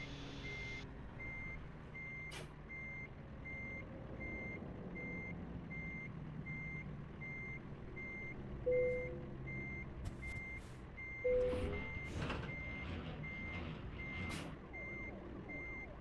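Reversing beeps from a truck backing up in American Truck Simulator repeat at a steady rhythm over a low engine rumble, with brief louder knocks partway through and no talking.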